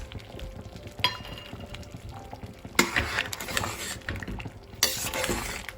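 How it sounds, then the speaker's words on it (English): A spoon stirs seasoning through foxtail millet sambar in a metal pot, scraping and clinking against the sides. A faint sizzle sits underneath, and louder bursts of stirring come at a few points. "Add the seasoning to the sambar and mix it."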